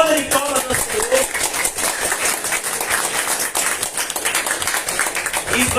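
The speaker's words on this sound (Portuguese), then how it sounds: "Uma salva de palmas ao Senhor." A church congregation claps together in a lively, continuous burst, the claps loud and close with some voices mixed in underneath.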